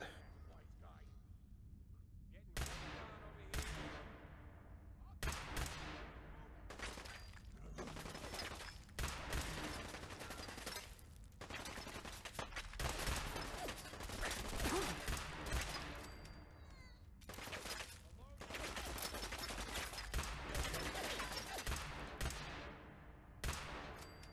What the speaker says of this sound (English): I like using laser weapons in this game because you can actually see where your shots are going